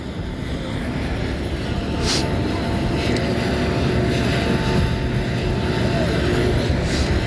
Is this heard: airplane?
yes